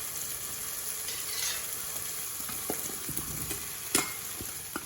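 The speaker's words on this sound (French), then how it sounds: "On mélange bien et on laisse mijoter environ 5 minutes" Jackfruit simmers in a pan while being stirred, giving a soft steady sizzle with scattered small clicks and scrapes from the utensil, no voices.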